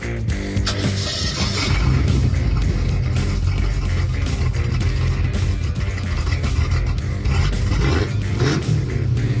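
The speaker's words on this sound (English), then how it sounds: "That was Christopher's 1984 Mustang GT, Fox" A 1984 Ford Mustang engine rumbles steadily and loudly throughout at a car show, with a deep, continuous roar and occasional surges as if revving.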